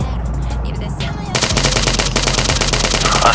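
Sustained machine gun fire in a video game, a quiet stretch giving way to a loud, dense, continuous stream of rapid shots that carries on to the end, with faint voices in the background.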